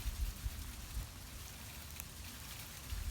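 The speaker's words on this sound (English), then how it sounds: "it's raining / sleeting" Rain and sleet fall at night in a cow yard, a steady close patter of drops hitting surfaces with occasional low thumps, no voices.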